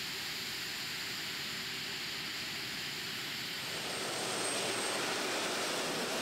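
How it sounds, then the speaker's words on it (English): A turbine-powered pulling tractor with four helicopter engines at a tractor-pulling event gives a loud, steady turbine roar with a high whine on top, swelling slightly louder toward the end and running unbroken throughout. "Different setup, turbine machine here. Helicopter engines on there"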